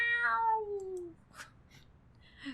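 A single drawn-out cat meow in Hustle Cat, close and clear with a falling pitch, followed by faint quieter chirps and soft background noise.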